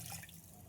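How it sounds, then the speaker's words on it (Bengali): Water poured into a pan of fish roe curry to make gravy, a brief, soft splashing trickle in a home kitchen. "সামান্য ঝোলের জন্য জল"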